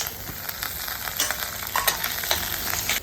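Potatoes tipped into onions and green chillies already frying in hot oil, giving a steady close sizzle with scattered crackles and a few stirring clatters throughout, no voices.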